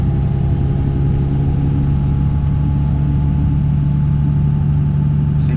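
A Cummins 24V diesel truck engine under way in sixth gear, a loud, steady low rumble with a deep constant drone and no noticeable revving, heard from the cab.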